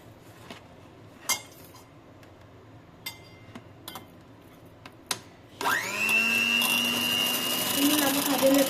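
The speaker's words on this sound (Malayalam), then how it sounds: "ഇനി നമുക്ക് അതിൽ ബീറ്റ് ചെയ്തെടുക്കാം." An electric beater starts up partway through and whirs loudly and steadily, beating egg in a bowl for sponge pudding, after a few scattered clinks and knocks of preparation.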